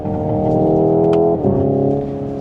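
A Hyundai Ioniq 5 N electric car plays its simulated engine note, lugging and bogging in a high gear: a loud, steady, low droning hum that dips and shifts briefly partway through, then carries on.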